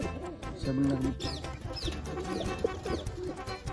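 Desi pigeons in a loft give soft, low cooing calls, with brief chirps and rustling mixed into a busy background.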